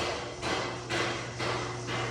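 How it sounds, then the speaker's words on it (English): Hammer blows on a CAT 374 excavator bucket during a cleanup cut at the bucket holes, landing as three or four broad, evenly spaced impacts over a steady background hum. "he's got to be using the hammer when I'm talking"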